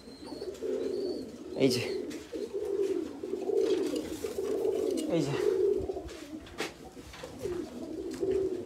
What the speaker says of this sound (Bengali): এই দুইটা কবুতর আজকে মাশাআল্লাহ খুব সুন্দর আজকে ফ্লাই করলো